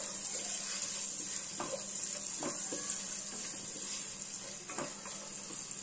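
Onions frying in hot oil for punugulu: a steady bright sizzle throughout, with occasional soft knocks and clatters of utensils, moderately faint, no voice.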